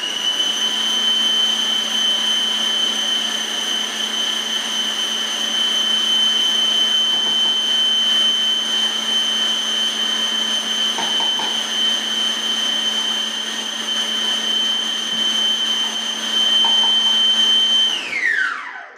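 An electric mixer beats a cream filling for a layered pineapple cake, a loud steady motor whine held evenly for about eighteen seconds before spinning down at the end.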